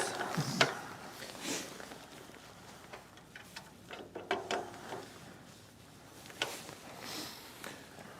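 A lock nut is tightened on a Logosol chain sawmill, giving a scattered series of sharp metallic clicks and ratcheting ticks, close and fairly quiet, with short pauses between turns and no talking.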